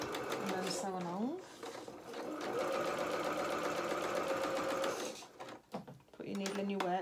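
A sewing machine stitches a quarter-inch seam on small suit trousers, running in a steady, fast mechanical whir that pauses briefly and restarts, with a voice talking over it.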